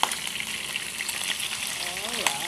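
Chicken frying in hot oil over low heat, a steady soft sizzle and bubbling hiss with occasional light pops, heard fairly close.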